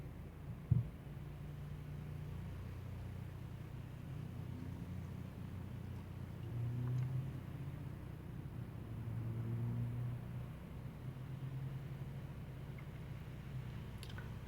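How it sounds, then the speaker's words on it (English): A Lexus GS300 engine idles steadily after start-up, a low, even rumble and hum held close and constant throughout, with a single brief knock near the start and no voices. "I'm going to turn the vehicle on"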